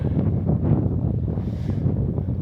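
Wind buffets the microphone on an open coastal cliff path between Filey and Scarborough, a loud, steady roar with gusty swells running through the whole stretch.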